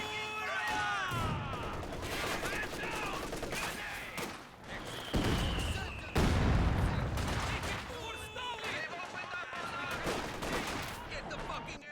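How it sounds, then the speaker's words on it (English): Bursts of machine gun fire and other gunshots in a video game battle, loud and close, overlapping in rapid volleys with shouted voices mixed in. "Get the fucking MG out of here!"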